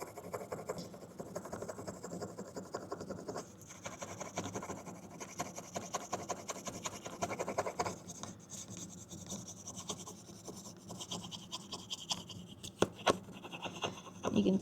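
Back of a wooden spoon being burnished, a steady close dry rubbing and rasping that runs without a break for the whole stretch, with no talk over it.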